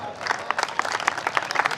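Audience clapping at a Hindi poetry recital during a Navratri Durga festival gathering, a short burst of scattered, moderately loud applause from a crowd.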